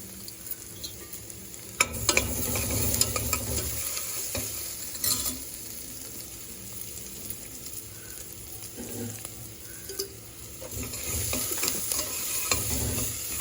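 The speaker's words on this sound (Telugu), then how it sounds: "ఉల్లిగడ్డ మగ్గిన తర్వాత అల్లం ఎల్లిగడ్డ వేస్తున్నాను" Onion softened in a pan frying with ginger and garlic, a steady sizzle under repeated scraping stirs of a spoon, close and moderately loud throughout.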